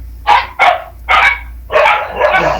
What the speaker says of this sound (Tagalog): ang ingay ng mga aso niyo